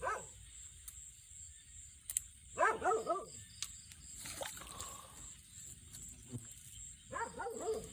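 A dog barks near the edge of a reservoir during a fishing outing, with short bursts at the start, a louder cluster of barks in the middle and another burst at the end, over low outdoor background noise.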